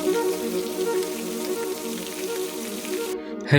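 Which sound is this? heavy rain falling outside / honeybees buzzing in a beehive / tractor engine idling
heavy rain falling outside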